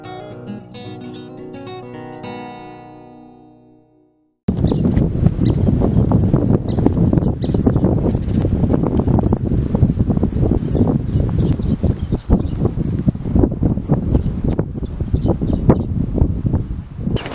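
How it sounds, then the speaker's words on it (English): Strong wind buffets the microphone outdoors on a chicken farm, a loud, continuous roaring gust noise that follows a few seconds of musical intro. "it's pretty windy down here today"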